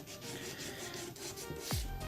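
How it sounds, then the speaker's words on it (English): Steady rasping rub of sandpaper against a guitar nut slot clogged with glue, continuous and close, ending in a brief louder scrape. "I'm just sanding it out because there's so much glue coming out of it."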